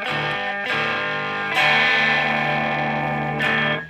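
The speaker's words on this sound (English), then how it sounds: "so you can hear it's distorted" Distorted electric guitar on the neck pickup, played through a Madbean Aquaboy (Aquapuss) delay pedal, sustained chords ringing with a thick wash of delay, new strums near 0.7, 1.6 and 3.4 seconds, loud and without talk.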